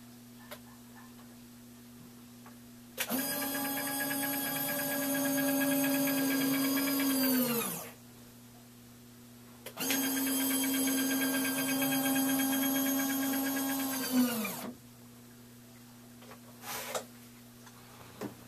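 A servo actuator drives the sliding rear canopy of a Ziroli AT-6 Texan model through two long whirring runs of about five seconds each. The motor tone is steady and close, with faint clicks in the quiet gaps between runs.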